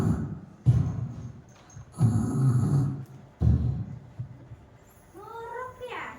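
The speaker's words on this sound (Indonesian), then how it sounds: "Sekarang tinggal dengkurnya yang bertahan." Snoring performed by a voice reading a children's story aloud, a few slow, loud, rasping breaths separated by pauses, then a brief high call near the end.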